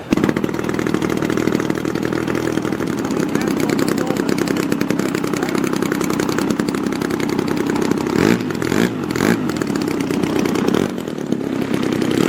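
A model aircraft engine climbs before a spot landing at a competition, a loud steady buzzing whine held for several seconds with brief dips in pitch near the end, over faint crowd and announcer talk.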